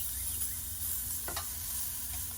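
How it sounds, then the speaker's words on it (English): Pre-cooked mild sweet Italian chicken sausages sizzle in a pan with a steady close hiss and a couple of faint clicks from stirring, no voices. "They're sizzling."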